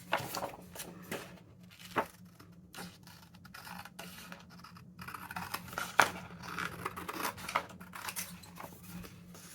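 Scissors snip around a painted spring postcard at close range, with a steady run of small crisp cuts and faint paper rustles between them. No one speaks.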